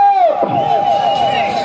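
A crowd shouts and claps at a village bull race in Tonduru, with a sustained loud shout over a dense, rough burst of clapping and noise.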